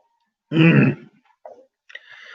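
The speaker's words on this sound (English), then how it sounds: "I'm coughing again." A single harsh cough followed by a couple of smaller throat-clearing grunts, close up, then quiet.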